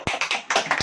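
A church congregation claps during a sermon, giving a short run of quick, uneven hand claps close to the listener, with no talking.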